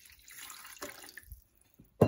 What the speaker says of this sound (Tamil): அதையும் போட்டு தண்ணி விடுவோம்